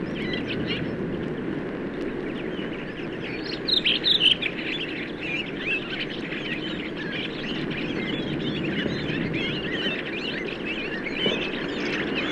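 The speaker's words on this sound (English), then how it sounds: "redwings often gather in the woods before their departure to Scandinavia. Here they indulge in a gay, twittering kind of sub-song" Redwings in a March woodland twitter in soft, rambling sub-song, a continuous faint chatter of thin chirps with a brief louder flurry of calls, under a low steady background hum.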